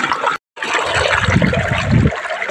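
Water from a motor pump gushes steadily into a barrel as it fills, a continuous close pour broken by a brief silence near the start.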